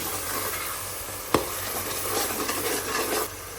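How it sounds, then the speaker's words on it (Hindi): Masala frying in a pan for saalan, a soft steady sizzle with scraping stir strokes and one sharp knock of a utensil against the pan. "मसाला फ्राई हो गया"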